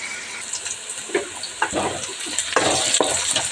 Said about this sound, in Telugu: ఇవి బాగా వేగాలి.